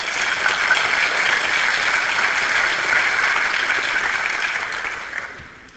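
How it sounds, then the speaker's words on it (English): Steady audience applause at a 1999 developer conference session on Windows scripting, fairly loud and continuous, tapering off over the last second. "That deserves a round of applause."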